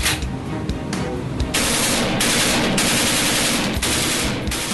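A Kalashnikov rifle fires loud, close bursts of automatic fire in a cold-climate test chamber simulating harsh winter, each a rapid string of sharp cracks, with brief gaps between bursts.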